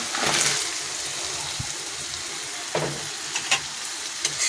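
Crab frying in hot oil in a wok for Bengali-style crab curry, a steady close sizzle with stirring scrapes and a few sharp clatters near the end, and no talking.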